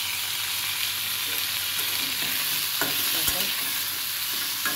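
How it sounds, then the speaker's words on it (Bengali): Spices and turmeric frying in a pan for amra (hog plum) chutney, a steady loud sizzle with occasional stirring scrapes and clinks, no talk over it. "ভেজে নিচ্ছি।"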